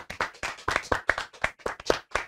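A small audience at a game show gives a short burst of clapping in a quick, uneven rhythm of individual hand claps close by, with no one speaking.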